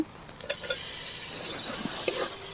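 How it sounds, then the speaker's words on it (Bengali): Tomato masala with turmeric, cumin and Kashmiri chilli powder frying in oil, a bright continuous sizzle with a few stirring scrapes and clinks, close and steady with no talking. "ভালো করে মশলাটা ভেজে নিতে হবে"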